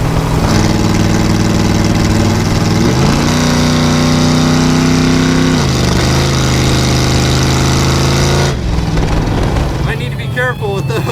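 An engine fitted with Edelbrock Pro-Flo 4 multi-port fuel injection and Hooker headers with exhaust cutouts runs loud and close. Its steady rumble climbs and falls through a couple of revs before cutting off into rougher noise.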